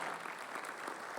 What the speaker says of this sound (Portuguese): Você pode aplaudir bem forte os líderes dessa casa.